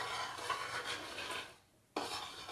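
A pot of boiling liquid being stirred, giving close scraping and rubbing sounds against the pot with a short pause before the stirring resumes.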